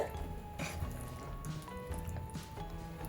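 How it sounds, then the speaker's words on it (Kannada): Mutton ghee roast gravy cooking over a high flame, giving a steady close sizzle with wet bubbling and squishy liquid pops throughout, with no voices. "ಹೈ ಫ್ಲೇಮ್ನಲ್ಲಿ ಒಂದು 2-3 ನಿಮಿಷ ಚೆನ್ನಾಗಿ ಕುಕ್ ಮಾಡ್ಕೊಳ್ಳೋಣ."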